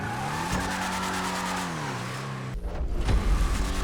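The Vapid Peyote Gasser drag car from Grand Theft Auto drives with a droning engine that rises and falls in pitch, then its tires squeal in a skid near the end. The car is close and loud.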